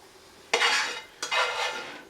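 Two scraping scoops of cooked mushrooms are spooned onto bread rounds on a plate, each a short rustling, clattering burst, close and moderately loud, with quiet between and no talk.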